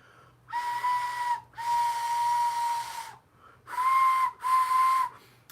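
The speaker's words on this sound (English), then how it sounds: "It's a convor whistle." A convor whistle toy from Galaxy's Edge gives four loud, breathy steam-train-like hoots, each a steady two-tone tone with hiss, the first two long and the last two shorter, heard alone and close.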